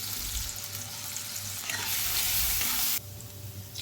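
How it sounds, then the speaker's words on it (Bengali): Steady hissing sizzle of chopped garlic and ginger frying in hot white oil in a kadai, with brief stirring scrapes; the sizzle drops in intensity near the end. "কড়াই আবারও সাদা তেল দিয়ে রসুন কুচি ও আদা কুচিটা ভেজে নেব"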